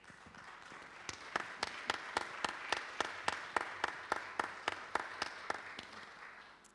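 Applause at a gender equity seminar in Brunei Darussalam, heard as a quiet, fairly slow run of evenly spaced claps that sounds like a single pair of hands or a small group, moderately far off, with no voices.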